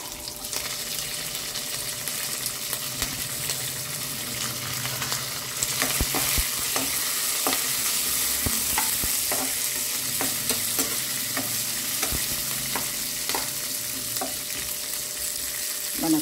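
Onion and green chili added to lentils and peanuts frying in a pan make a loud, continuous sizzle, punctuated by repeated scraping and clicking stirring strokes, which swell noticeably about a third of the way through.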